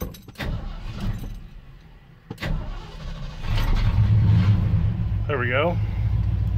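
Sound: engine starting and running again

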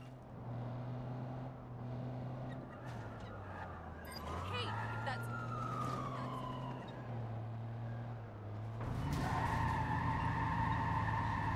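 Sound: police car siren in Watch Dogs 2 video game

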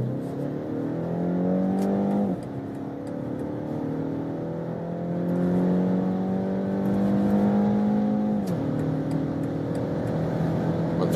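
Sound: 4-cylinder car engine accelerating

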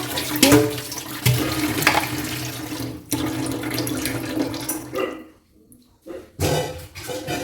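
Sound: pot being filled with water from a tap

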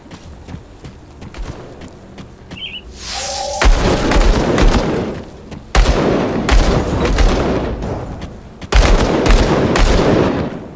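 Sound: gunfire in the video game Grim Dawn

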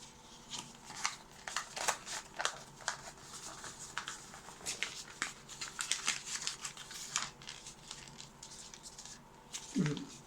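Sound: tissue paper being wrapped around a wine glass

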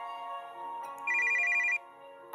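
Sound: phone ringing in the video game Legends of Crystal

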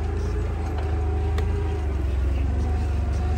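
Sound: forklift engine running while being driven

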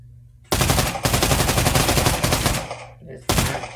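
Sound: machine gun fire in the VR video game Pavlov

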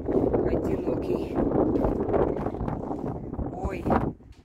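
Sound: wind blowing on the savanna

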